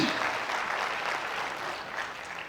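An audience of young listeners at a talk applauds, steady, dense clapping that is loudest at the start and then holds at an even level.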